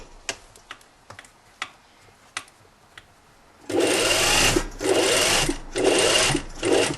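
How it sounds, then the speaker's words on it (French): A sewing machine stitching around a jacket flap: a few sparse ticks at first, then loud bursts of rapid stitching separated by short pauses. "il faut faire tout le tour du rabat avec 1 cm de couture"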